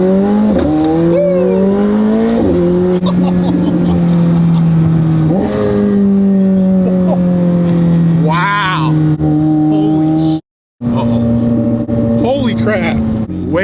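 A McLaren supercar engine revs hard up to about 4,500 RPM, its pitch climbing in repeated sweeping bursts with a brief cut near the end, loud and close as excited voices exclaim over it.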